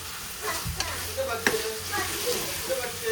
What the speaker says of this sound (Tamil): இந்த வெங்காயம் தக்காளி இஞ்சி பூண்டு பேஸ்ட்லையே இந்த சிக்கன் போட்டு ஒரு மிக்ஸ்அப் பண்ணிக்கணும்